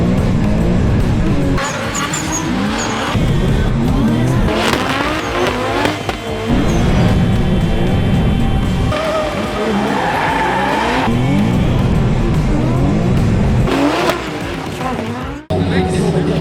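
A drift car slides with screeching tire squeal and revving engine, repeated bursts of squeal over a roaring motor, loud and close, with voices heard at moments amid the noise.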